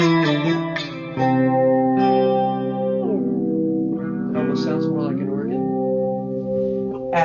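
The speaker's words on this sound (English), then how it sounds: "I could do a very legato solo that cuts through the mix." A sustained, smoothly legato electric guitar solo played through an effects pedalboard, with sliding, bending notes held over each other, thick with distortion, chorus shimmer and reverb, loud and continuous.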